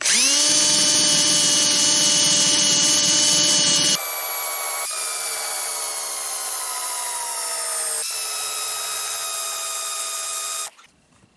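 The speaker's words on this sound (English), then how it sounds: "we're going to go ahead and turn on our drill" A power drill with an eraser wheel whines loudly and steadily, its pitch shifting as the wheel grinds off a decal, then cuts off near the end.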